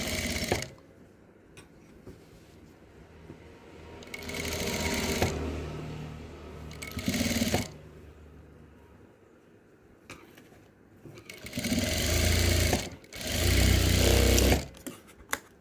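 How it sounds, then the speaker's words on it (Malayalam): A sewing machine stitches the neckline of a garment in several separate bursts of fast, whirring needle runs, with quiet pauses and light handling noises between them and no talking. "ഇനി ഇതിൻ്റെ ഈ നെക്കിൻ്റെ ഈ സൈഡും കൂടെ തയ്ച്ചെടുക്കാവേ"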